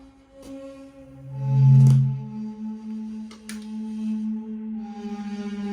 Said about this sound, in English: I have the synth layered and it sounds like